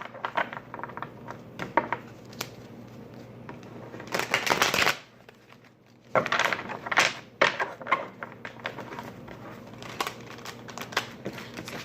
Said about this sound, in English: Pre-shuffle, and I also shuffle while I read